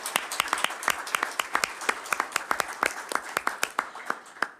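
A small audience at a council meeting claps, the individual hand claps sharp and distinct, forming a sparse, uneven patter rather than a dense roar.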